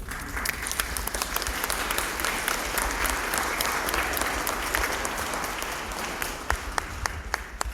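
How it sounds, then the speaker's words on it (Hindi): Wedding guests applaud steadily at a church marriage ceremony for twin brothers, a sustained, fairly close burst of clapping with no talking over it. "तालियां बजा सकते हैं।"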